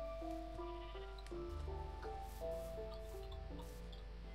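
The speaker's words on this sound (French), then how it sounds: "Des moutons par là." Sheep in a Minecraft-style video game bleat repeatedly over a quiet steady background, several short synthetic stepped cries in irregular succession with no talking.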